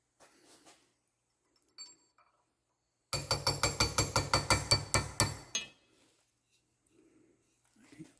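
A hammer strikes a chisel during an electric slope mower axle repair: about a dozen rapid, ringing metallic blows in a quick burst, close and loud, between quiet stretches.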